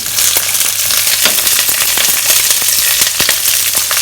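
Green chili pieces, seeded, frying in a wok over medium-high heat for spicy chilli chicken, giving a loud, steady crackling sizzle with sharp pops scattered throughout.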